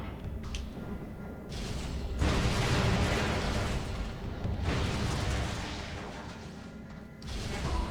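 Turret fire and explosions during an ambush in Metroid Prime 2: Echoes, with dense, continuous rumbling booms that swell loudly from about two seconds in, dip briefly, then surge again near the end.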